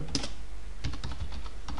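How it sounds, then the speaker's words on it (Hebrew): Computer keyboard keys typed in a short burst of several clicks, close and clear, while entering a plugin name into a search box. "מקליד בתיבת החיפוש פורם לימיטר"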